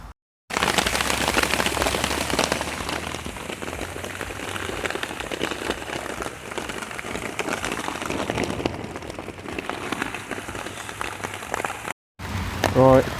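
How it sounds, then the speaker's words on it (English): Rain falling on a campsite set up on a roundabout, a dense crackling patter on a surface that starts after a brief gap, keeps up steadily and loudly, then stops suddenly before a short burst of other sound. "so it started to rain now"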